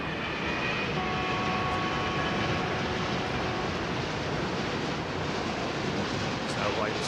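A jet airliner lands at London Heathrow Airport in the early morning, its engines a dense, steady roar filling the whole stretch, close and loud with a faint whine riding on top.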